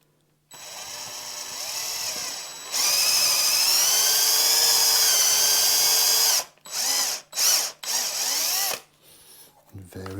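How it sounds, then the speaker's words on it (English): A power drill fitted with a 9.5mm bit runs in reverse through holes in a thinline bass guitar body, one long steady whine followed by several short bursts as the trigger is pulsed, close and loud. "just very carefully run a drill through there just to clean them up"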